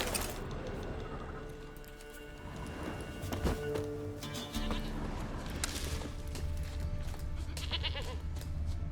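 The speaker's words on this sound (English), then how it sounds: "I hear you, goat." A goat bleats several times in Witcher 3 amid rustling outdoor game ambience, the calls fairly close and clear over a busy background.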